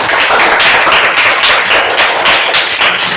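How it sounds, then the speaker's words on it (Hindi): A classroom of students claps loudly for a classmate, dense steady applause running throughout without pause. "जोरदार ताली इनके लिए"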